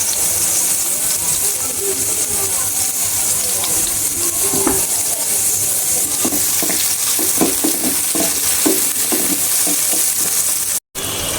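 Ground spice paste of onion and garlic frying in a pan for a pabda fish curry, a loud steady sizzle and hiss with scraping stirs throughout and a brief cut near the end.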